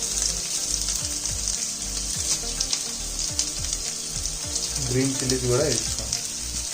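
Onion, carrot, capsicum and green chillies fry in a pan, with a steady, close sizzle and crackle throughout and a few stirring scrapes. A voice speaks briefly over the frying.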